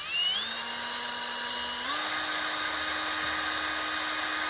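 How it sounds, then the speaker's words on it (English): A power drill whines steadily while pre-drilling a hole in wood, its pitch rising as it spins up and then stepping higher as the bit bites, close and alone with no talk. "I'm just going to pre-drill right in the center here."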